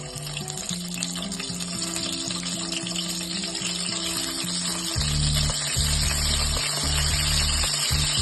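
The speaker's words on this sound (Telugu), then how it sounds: "సో ఈ వంకాయలు అనేది ఈ ఆయిల్లో మగ్గనివ్వాలి." Cut eggplants fry in about two and a half spoons of oil for a stuffed green chilli brinjal curry, making a continuous close sizzle with a low, steady hum underneath and no talking.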